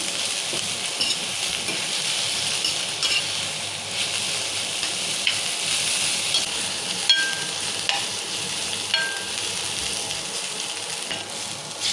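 Green chillies and other ingredients for an egg masala curry fry in a pan with a loud, continuous close-up sizzle and hiss, broken by occasional faint utensil clinks.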